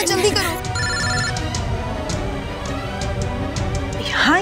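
A telephone rings repeatedly while a call is being placed in a tense domestic drama scene, with a steady ringback pattern running under background music and voices.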